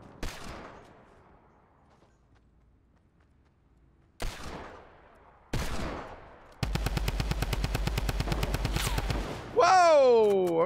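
Gunfire in the video game Fortnite: a few single loud shots with ringing decay, then a sustained rapid burst of automatic fire, ending in a swooping electronic effect, all close and loud.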